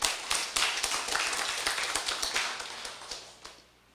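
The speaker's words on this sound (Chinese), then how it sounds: "大家为家己鼓掌一下" A small class audience claps together, starting as a dense burst of close, crisp hand claps that thin out and fade to scattered claps before stopping.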